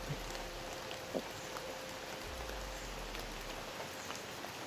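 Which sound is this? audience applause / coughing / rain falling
rain falling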